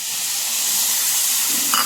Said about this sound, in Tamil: ஒரு அரை பவுல் தண்ணி ஊற்றுறேன்.